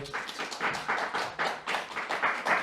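A church congregation at a Friday prayer meeting claps together in a steady, dense burst of applause, the sound filling the room evenly for a few seconds with no voices over it.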